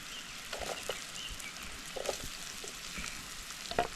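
Buff innards fry and sizzle quietly in a pan while being stirred, with a soft continuous crackle and occasional light scraping clicks.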